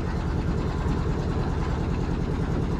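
A trawler's engine idling on a lake near Rangamati, a steady low throbbing rumble with a regular pulse, close and constant throughout.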